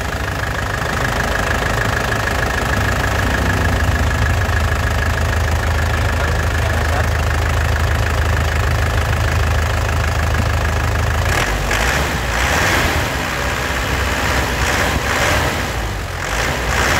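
Black 2010 LS Turbo car engine idling warm, a steady low rumble with a faint rhythmic knock running unchanged throughout, close and fairly loud, a broadband gust-like noise rising over the last few seconds.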